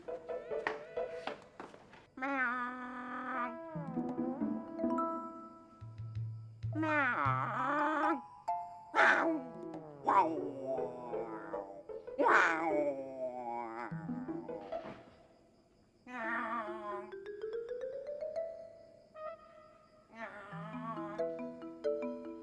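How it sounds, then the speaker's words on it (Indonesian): A cat meowing repeatedly, close and loud, with drawn-out wavering cries and short pauses between calls. "Suara kucing lagi tuh"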